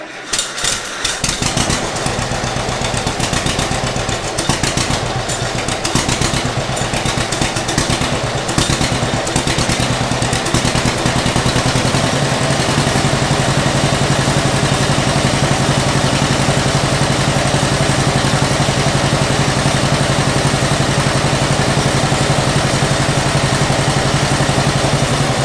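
A John Deere 50 tractor engine with its stock muffler idles steadily and loudly up close, a continuous low, even putter with no speech over it.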